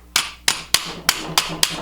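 A rubber hammer taps a stubborn, tight pin into a 1911-style pistol: six sharp, close knocks at a quick, slightly uneven rhythm, each ringing briefly.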